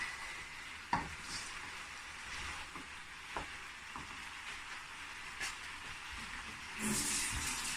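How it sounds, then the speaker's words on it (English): A Bangladesh-style vegetable curry is stirred in a cooking pot, with steady scraping and stirring against a soft sizzle. A few sharper knocks stand out over the continuous hiss, and no one speaks. "then now I'm stirring again"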